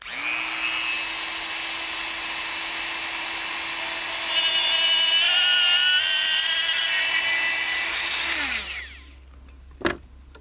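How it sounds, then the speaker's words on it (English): A small Dremel rotary tool with a 1/16 inch bit drills through a wooden piece. Its steady high whine holds for about eight seconds and rises in pitch midway, then spins down, and a single sharp knock follows. "I have a 1/16 inch drill bit in my little Dremel tool here."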